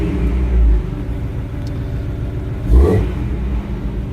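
A 1990 Jeep Cherokee Pioneer fitted with a header and a Super 44 Flowmaster exhaust starts up, a brief rising burst around the ignition catch before settling into a steady, rumbling idle heard up close.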